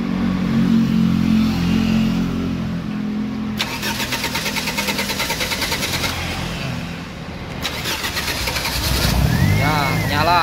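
A fuel-injected car converted to run on LPG cranks over, catches and settles into a steady idle. The engine is loud and close, with a second start-up surge later and brief voices near the end.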